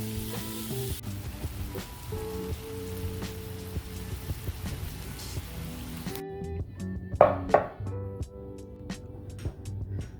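Ground beef seasoned with salt, pepper and chili powder frying in a pan, a steady crackling sizzle throughout with a few louder spits and pops near the end, no voices.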